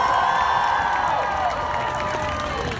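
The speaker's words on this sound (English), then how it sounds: "Can we get a round of applause for everyone who took the time and was able to be here?" Crowd at a youth climate strike rally in Philadelphia breaking into sustained applause mixed with cheers and high whoops, a loud, dense outdoor roar holding steady for about three seconds.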